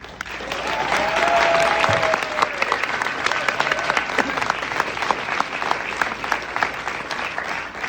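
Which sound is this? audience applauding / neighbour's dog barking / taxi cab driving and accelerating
audience applauding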